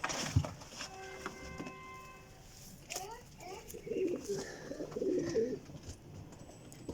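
Teddy golden flying pigeons in a loft cooing: a few soft, low throaty coos in the latter half, with some faint tonal noises and light background sounds early on.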